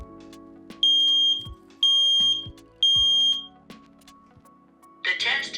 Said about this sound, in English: This is only a test. The alarm will sound loudly.